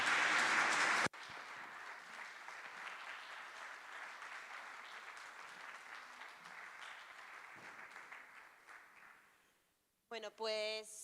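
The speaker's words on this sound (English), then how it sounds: "Big round of applause to all of them." A conference audience at a European Green Party event applauds steadily for about nine seconds, a dense even wash of clapping that fades out near the end, followed by a short burst of voices.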